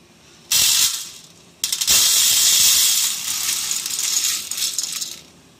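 Golden roasted lentils poured from a pan into a vessel while making idli podi: a bright, loud rattling pour, a short break, then a longer steady rattling stream that trails off at the end.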